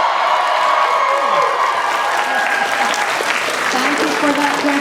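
A convention panel audience at RetroGameCon applauding, a dense continuous wash of clapping from a large crowd with voices faintly mixed in over nearly five seconds.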